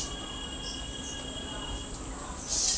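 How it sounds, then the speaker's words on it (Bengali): Crickets chirp steadily at dusk near a rural home, a continuous high, faint insect trill holding throughout with a slightly louder swell at the end. "দেখো কিভাবে ঝিঝি পোকাগুলো ডাকছে,"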